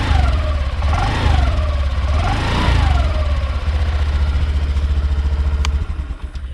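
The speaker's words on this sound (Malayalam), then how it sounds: "ഇതിൻ്റെ ആ ഒരു സൗണ്ട് ജസ്റ്റ് ഒരു വിസ്ലിംഗ് സൗണ്ടാണ്." Honda Activa 6G scooter engine runs steadily at a loud, close idle, with a whistling tone that rises and falls twice before settling into an even hum.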